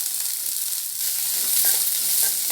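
Shallots and garlic cloves frying in hot oil in a kadai give a steady, close, dense sizzle that swells slightly partway through, with no talking.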